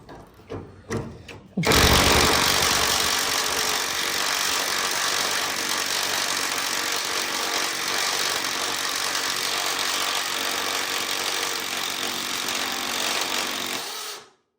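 A power tool runs steadily for about twelve seconds, loud and close, spinning out a hot bolt while removing a VW cab, after a few brief knocks at the start, then cuts off abruptly.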